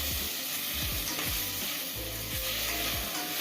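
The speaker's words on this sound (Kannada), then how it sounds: "ಚೆನ್ನಾಗಿ ಇನ್ನೊಂದು ಸತಿ ಮಿಕ್ಸ್ ಮಾಡಿಕೊಂಡು" Bisi bele bath sizzles as it is stirred and fried in a pan, with repeated scraping strokes of the spoon over a constant close, hissing crackle.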